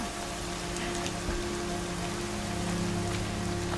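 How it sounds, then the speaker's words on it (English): Steady rain pours down in the video game Horizon Zero Dawn, a dense continuous hiss of drops on surfaces with a low ambient rumble beneath, even and unbroken throughout. "It's raining."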